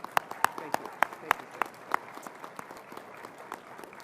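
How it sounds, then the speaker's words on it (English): An audience at an outdoor HHS Pride flag-raising event gives sparse, scattered applause, individual claps standing out sharply against a quiet outdoor background, with speech also present. "Let's give a round of applause to Admiral Levine."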